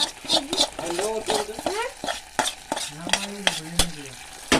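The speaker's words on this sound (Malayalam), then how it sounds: "ഇപ്പോൾ നന്നായി ഇളക്കി കൊടുക്കാം" A spoon stirs kootukari, a Kerala vegetable curry, in a pan, giving close, sharp scraping clicks over a soft sizzle, with a voice talking intermittently over the stirring.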